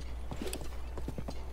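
Horse hooves clop along in the video game Zelda: Breath of the Wild, a quick light run of a dozen or so soft beats over a steady low hum with no talking.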